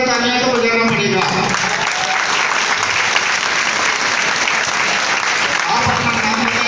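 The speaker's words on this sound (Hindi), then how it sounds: "तालियां बजाइए" Sustained applause from a seminar audience at a business talk, dense steady clapping filling the room throughout, with a voice audible over it at the start.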